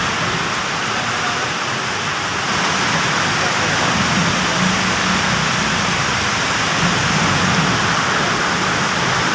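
Dense, steady downpour hisses loudly and without pause on a city street toward Cubao, with gusting wind swelling slightly partway through.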